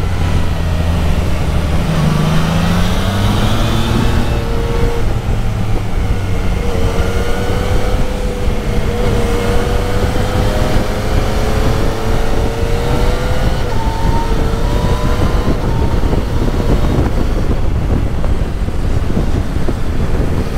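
Yamaha Niken three-wheeled motorcycle riding at speed, steady engine drone with rising and falling revs as gears change, heavily mixed with loud wind rush across the microphone.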